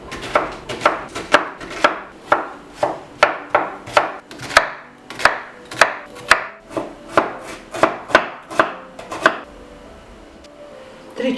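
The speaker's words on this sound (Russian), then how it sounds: "А сейчас нарежем головку лука." A kitchen knife dices a heavy 350-gram onion into cubes on a cutting board for an eggplant dish. About seventeen crisp, evenly spaced chops sound up close, then stop, with no talk.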